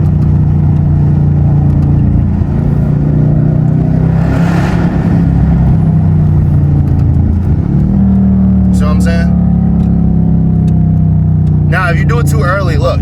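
Car engine with paddle shifters droning and building in revs, pitch climbing then dropping as gears change, loud and close inside the cabin while someone talks over it.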